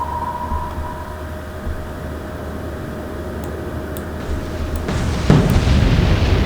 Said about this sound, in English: It's one of those rare moments where we will see two submarines exploding at once.